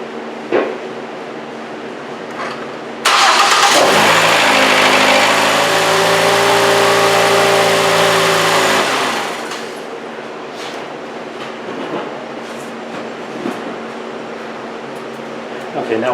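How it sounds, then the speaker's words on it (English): A car engine cranks and catches after an oil change, then idles with a steady loud hum for about six seconds before shutting off. Quieter garage ambience follows. "then we're going to start the vehicle up, and we're going to let it run for a couple of seconds"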